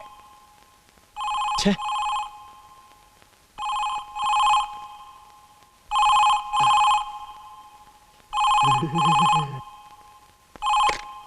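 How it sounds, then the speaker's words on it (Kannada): A telephone bell rings loud and close in repeated double bursts, four or five rings spaced by short pauses, with a brief voice heard between rings. "ಯಾರಾದ್ರೂ ಫೋನ್ ತಗೊಳ್ಳಿ"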